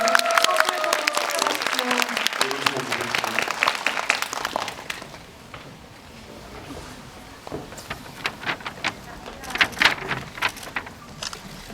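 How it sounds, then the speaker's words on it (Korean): A cinema audience at a Lotte Cinema World Tower film Q&A applauds in a dense burst that fades, then scattered claps return with a faint voice speaking underneath. "김수민 기자님 박수 한번 부탁드립니다."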